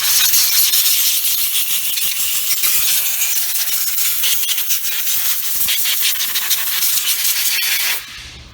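A small air compressor drives compressed air through a nozzle to blow off 6000 watt generator parts, giving a loud, sustained rough hiss with gritty fluctuations that cuts off near the end.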